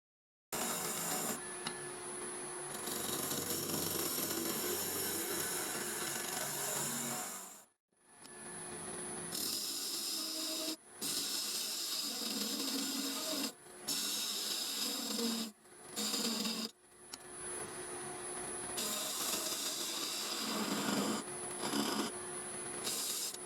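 Wood lathe turning a tenon on sycamore, a steady close rasping and hissing cut that runs continuously with several brief pauses where the tool lifts off.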